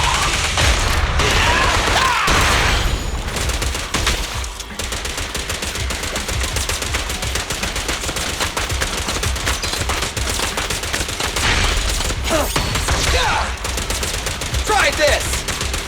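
Rapid, sustained gunfire from the video game Zenless Zone Zero, dense bursts and fusillades running almost continuously at high loudness with crashing impacts mixed in.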